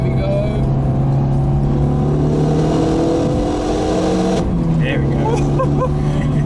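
A Renault Mégane RS 275 Finale engine drones and rises under acceleration, heard from inside the cabin in the passenger seat, a loud continuous roar with a short spoken remark over it.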